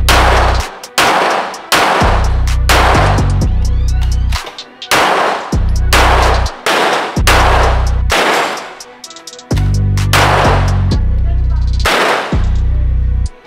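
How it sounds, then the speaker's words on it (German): Loud, sharp submachine gun shots at a Thai shooting range ring out in quick bursts totaling ten rounds, with brief pauses between them, each crack followed by a ringing echo. "Gerade gut geballert, hat Spaß gemacht. 10 Schüsse"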